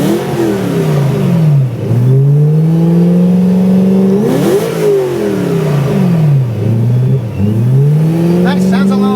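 BMW M3 engine revving up and down close by in several rising and falling sweeps, loud and sustained throughout, with someone talking briefly over it.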